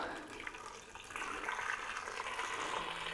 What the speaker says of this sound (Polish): I tak ułożone mięso zalewamy wodą.